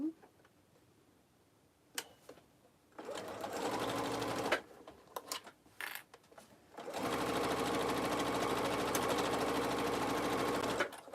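A home sewing machine stitches along the top edge of a tote bag in short start-stop bursts, then runs in a long steady close whir; a faint voice is heard early on.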